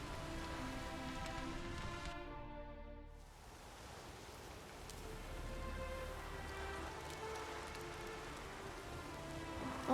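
Steady rainfall in The Witcher 3 video game hissing on surfaces, briefly dipping before returning, with a faint tonal hum underneath and no voices.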